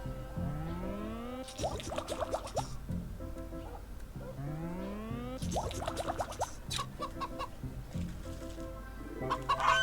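A goose in the game Wytchwood honks and clucks in repeated bursts, close and fairly loud, with rising calls and fluttering, plopping sounds recurring every few seconds.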